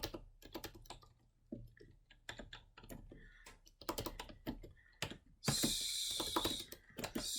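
Computer keyboard keys tapped out in irregular bursts while writing program code, close and fairly quiet, with a louder, brighter clatter of rapid keystrokes near the end.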